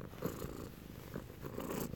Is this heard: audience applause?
no